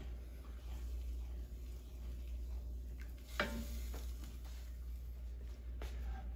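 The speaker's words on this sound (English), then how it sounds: "You want a whisk to incorporate and smooth any lumps." Soft stirring and gentle scraping of a whisk through thick mac and cheese sauce seasoned with mustard powder and cayenne, faint with a low steady hum underneath and a sharper clink partway through.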